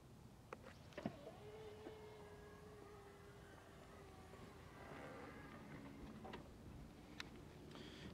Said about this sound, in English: this does have an automatic rear hatch, of course